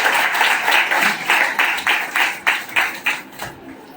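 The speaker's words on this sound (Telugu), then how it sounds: "ఈ సమయంలో గట్టిగా వారికి చప్పట్లు కొడదాం." A congregation at an outdoor gospel meeting in Parshapally, Zaheerabad claps in unison, loud, steady rhythmic beats at a regular pulse that thin out toward the end.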